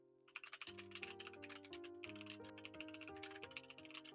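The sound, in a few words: typing on a computer keyboard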